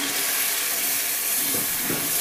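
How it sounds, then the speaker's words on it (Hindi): Peeled tomatoes frying in oil for chicken karahi, a steady close hiss and sizzle with faint stirring scrapes near the end, no voices. "इसलिए हमारा चिकन ज़्यादा ना गल जाए हमने इसको निकाल के इसमें फिर हम टमाटर फ्राई करते हैं"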